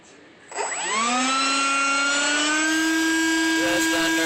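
An RC J-10B model jet's electric motor spools up from quiet to full throttle, a loud, close, steady high-pitched whine that rises quickly and then holds, with no speech over it.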